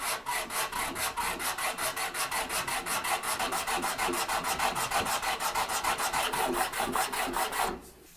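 Rhythmic rasping strokes as a sanding block is rubbed back and forth over a live-edge wood bookshelf, steady and close, about five strokes per second, ending abruptly.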